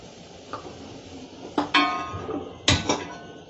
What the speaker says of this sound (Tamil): தோசைக்கல் வச்சுக்கலாம்